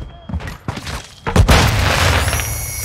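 A flashbang grenade goes off in Call of Duty Modern Warfare 2 during a Shoot House match: a few scattered thumps, then one sharp, loud bang that leaves a sustained ringing wash and a high whine.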